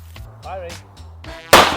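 A 9mm pistol shot fired into a mass of Orbeez water beads, a single sharp loud report at the very end after a stretch of low background noise and faint voices.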